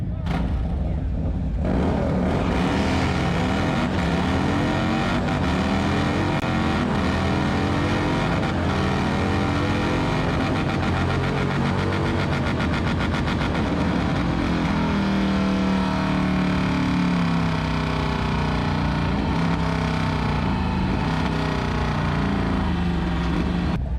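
Motorcycles launching side by side in a drag race at Daytona Bike Week, a continuous loud engine roar rising in pitch as they accelerate away, sustained for the whole stretch with no clear pause.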